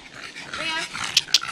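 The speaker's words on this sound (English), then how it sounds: "Hello doggy." A dog growls and whimpers close by in a short burst, with two sharp high yelps near the end and a voice talking faintly underneath.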